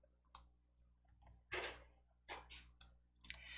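A computer mouse clicks a few times in a quiet room while a star shape is chosen in PowerPoint, with sharp, separate clicks and small handling noises between them.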